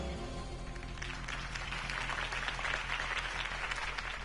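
Crowd applause for Harvey Dent's campaign speech in the Telltale Batman video game: dense, steady clapping from a large audience that holds for the whole stretch, fairly loud and with no voices over it.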